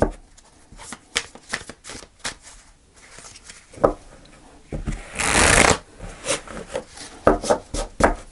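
Tarot cards shuffled by hand in a run of crisp riffles and soft slides, building to one long, loud riffle burst midway, then scattered taps and flicks, close and clear with no talk.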